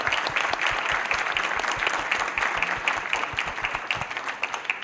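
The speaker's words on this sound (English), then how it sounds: "Can we please give a warm round of applause?" Audience applause for panelists at a university African Week event, a dense, steady round of clapping from a crowd that holds strong for about five seconds and tapers slightly toward the end.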